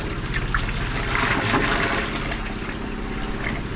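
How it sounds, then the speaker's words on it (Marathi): Water gurgles and trickles steadily as it drains away, over a constant low mechanical hum. "खाली सोडलं की पाणी जाते"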